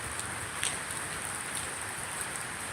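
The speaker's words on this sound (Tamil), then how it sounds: "சென்னையில் மழை பெஞ்சிட்டு தான் இருக்குது" Monsoon rain falls steadily at night in Chennai, a dense even hiss with a few scattered drops pattering nearby and no voices.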